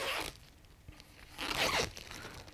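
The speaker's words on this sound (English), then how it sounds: "I'm going to take off the cellophane around it." Cellophane wrapping pulled off a cradled solid wood painting panel, two crinkly tearing bursts separated by a quiet pause, close and fairly soft.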